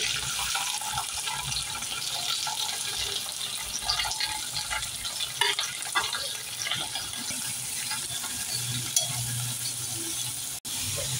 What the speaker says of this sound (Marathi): कांदा आपला शिजतोच आहे